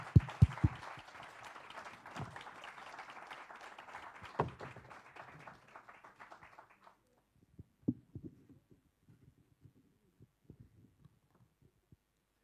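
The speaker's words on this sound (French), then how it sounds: "je vous demande de l'applaudir très très fort, le formidable monsieur Thierry Lens" An awards-ceremony audience applauds an honoree, a dense spell of clapping for several seconds that thins out into scattered single claps and then fades to near silence.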